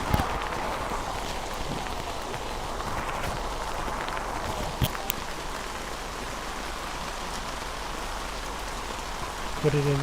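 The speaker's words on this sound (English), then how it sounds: "the rain continuing to pour down" Steady rain pours down at an outdoor girls' varsity lacrosse game, a dense continuous hiss with scattered louder drops and taps, broken only by a few faint knocks and a brief murmur of voices near the end.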